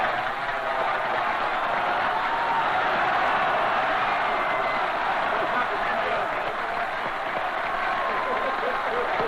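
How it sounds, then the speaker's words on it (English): Applause at an international conference where Indonesian leader Sukarno leads the clapping, a dense sustained roar of hands and crowd noise, steady and fairly loud throughout. "Sukarno leads the applause."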